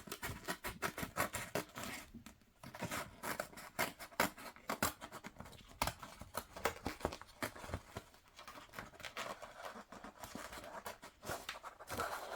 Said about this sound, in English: I found it easier to cut this out with my scissors instead of the Cricut.